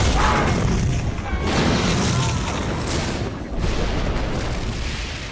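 A loud, close explosion-like boom with broadband rumbling and debris noise, followed by further crashing bursts.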